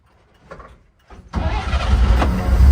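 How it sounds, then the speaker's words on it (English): A 1953 Chevrolet 6100 flatbed truck's straight-six engine: brief starter cranking, a pause, then the engine catches and settles into a steady, close, loud idle. "Press the floor start. And there she goes. Just idles nicely."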